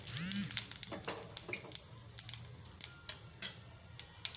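White cumin seeds and chillies crackle in hot oil while tempering a spice base for chicken liver and stomach, a soft sizzle broken by sharp, irregular pops and ticks, close up and fairly quiet.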